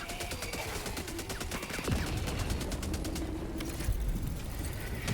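Rapid bursts from an MG turret machine gun in the Helldivers 2 video game, a sustained rattle of gunfire with dense, overlapping shots that keeps going over a busy background of battle noise, with no talk.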